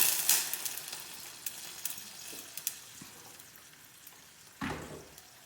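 Boiling water poured onto caramelized onions in a pot sets off a loud, brief sizzling burst near the end, after a stretch of quieter frying crackle and a few light stirring clicks.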